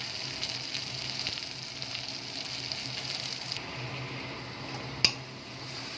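Spice paste sizzles and fries with softened tomatoes in a pan for a katla fish curry with potatoes, a steady soft crackle throughout with one brief sharp click near the end.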